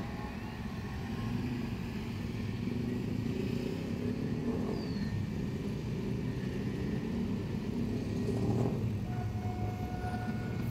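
City bus passing near a railway crossing at evening rush hour, a steady low engine rumble amid busy traffic noise, moderately distant and continuous with a faint high tone near the end.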